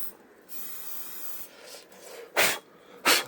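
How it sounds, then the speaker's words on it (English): Spray paint hisses onto a Mini Cooper S clock model's brickwork in two short, loud bursts near the end, after a quieter stretch of soft rustling. "We'll just spray this in now."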